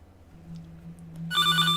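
A phone rings in the horror video game Five Nights at Tubbyland, a bright electronic trill that starts abruptly after a low steady hum and grows loud, with no one talking.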